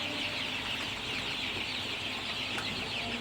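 A dense, continuous chorus of Sonali chicken chicks clucking and cheeping together in a hot indoor shed where a fan runs day and night, steady and fairly loud with no talking.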